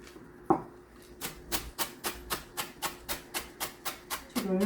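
A knife slices the white part of a green onion on a cutting board, one sharp cut, then about a dozen crisp, evenly spaced chops close up.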